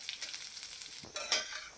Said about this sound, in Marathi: कमी गॅसवर सर्व ड्रायफ्रूट्स व्यवस्थित तळून घ्यायचे